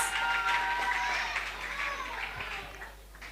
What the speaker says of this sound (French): S'il vous plaît, applaudissons pour elle. Applaudissons pour Joyce.